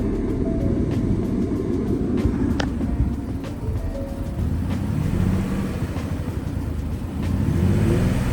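A Ford Explorer engine idles close by with a heavy, uneven low rumble from a cylinder 2 misfire, running steadily throughout, with no voices.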